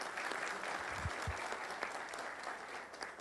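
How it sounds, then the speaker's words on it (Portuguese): Audience clapping steadily at a signing event with Pelé, a dense, even patter of many hands that holds at one level throughout, with a couple of louder claps near the start. "Uma salva de palmas para o Elcio."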